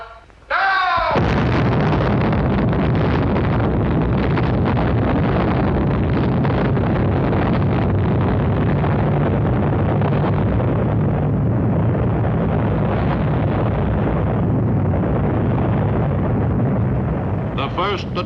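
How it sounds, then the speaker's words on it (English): Atomic bomb explosion at the first test, a continuous loud, broad roar after a brief opening burst, sustained and rumbling for well over fifteen seconds before easing slightly at the end. "The first atomic bomb explosion was an impressive success."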